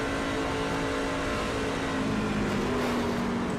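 A loud, continuous race car engine in a video game roars at Charlotte, its pitch holding steady and then easing slightly as the driver lifts off the throttle.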